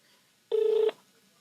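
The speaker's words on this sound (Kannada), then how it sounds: "ಹಾಂ, ರಿಂಗ್ ಆಗ್ತದೆ." A single steady electronic ringing tone on an outgoing phone call, one short beep of under half a second, clear and alone with nothing else around it.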